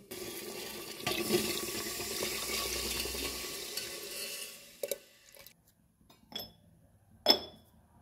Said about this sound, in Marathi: डाळीच्या पाण्याची येळवणी काढली ती त्यात ओतायची